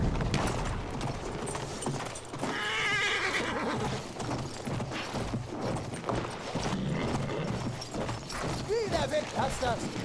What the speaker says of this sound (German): Pferdchen.